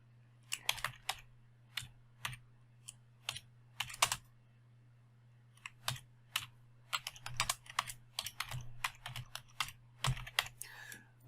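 A name is typed on a computer keyboard in irregular bursts of close, crisp key clicks over a faint steady hum.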